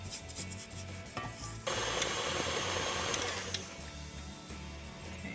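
An electric mixer on high beats carrot zucchini cake batter with a steady, gritty whir and scraping rub that swells louder partway through and keeps going without talk.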